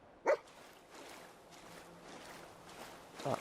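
A dog barks in the video game Fallout 4, one sharp bark near the start and another at the end, with quiet game ambience in between.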